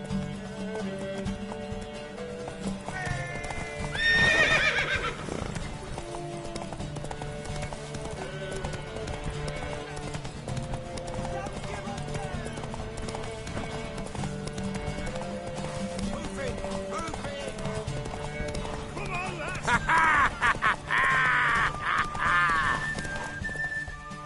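Horse hooves clip-clop steadily over a continuous music and effects bed in The Witcher 3 video game, with two high whinnies rising above, one early and one near the end.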